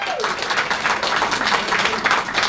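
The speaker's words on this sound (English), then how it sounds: "Now you can clap." A crowd at a Maryland gubernatorial campaign speech claps steadily, a dense wash of applause that holds at an even level throughout.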